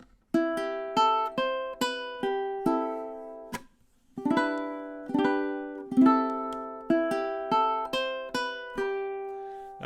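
A solo ukulele in high-G tuning plays a fingerstyle arrangement of a song: clear, close plucked notes and light chords in a steady melodic phrase, with a brief pause partway through.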